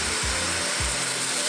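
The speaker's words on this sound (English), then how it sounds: "The Mirka is essentially an electric sander" A Mirka electric sander with an attached dust vacuum, fitted with 80-grit paper and working on a 1956 Century Resorter boat transom, gives a steady loud whir and hiss with two brief low thumps.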